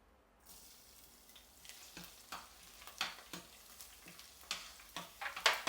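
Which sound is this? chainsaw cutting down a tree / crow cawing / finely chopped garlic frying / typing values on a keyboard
finely chopped garlic frying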